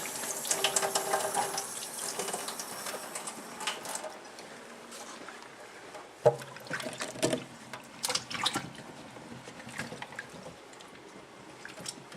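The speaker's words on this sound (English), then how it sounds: "And it's good to always wash your fruit before you eat it or can it." Tap water runs steadily over fruit being rinsed at a sink for home canning, with splashes, trickles and handling noises close by.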